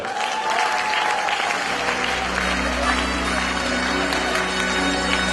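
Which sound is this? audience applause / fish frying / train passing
audience applause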